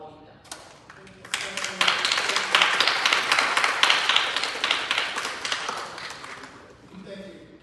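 Applause from the audience at an Atlanta city council meeting, a crowd of hands clapping that rises quickly, stays dense and steady for several seconds, then thins out, with a voice speaking around it.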